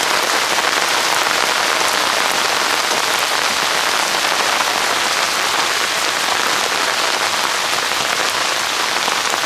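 Heavy rain from the remnants of Tropical Storm Lee pours down steadily during flooding in upstate New York, a dense, continuous roar of drops on surfaces filling the whole scene with no voices.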